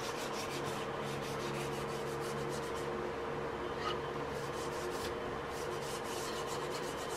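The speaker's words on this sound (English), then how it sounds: "It's 220 grit paper. Doing some quick sanding." Steady dry rubbing and scraping of 220 grit sandpaper over a wooden rifle stock, continuous and close, with no talking.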